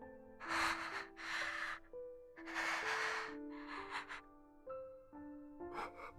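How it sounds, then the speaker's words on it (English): Pained, ragged breathing over a phone call in the visual novel game CHAOS;CHILD, a series of faint, strained gasps and snorting inhales spaced irregularly against soft tonal background music. "All I could hear was pained breathing."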